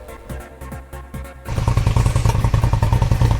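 Suzuki SV650 motorcycle engine fitted with a new exhaust pipe, starting after a quiet lead-in with a few thumps, then settling into a loud, close, steady idle with rapid rhythmic pulses.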